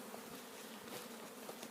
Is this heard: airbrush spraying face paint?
no